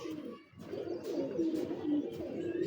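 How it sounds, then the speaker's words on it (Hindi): Ferozpuri pigeons coo softly and continuously from close by, low rolling calls overlapping one another, with faint rustling around them. "ये चोई साहब वाले कबूतर हैं ना"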